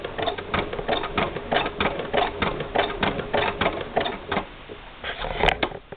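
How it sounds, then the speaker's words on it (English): A Singer Spartan sewing machine runs on a Bishop hand crank, producing a fast, rhythmic mechanical clatter of needle strokes that stays steady and close throughout. "So what you're actually doing is using the machine with the clutch knob disengaged"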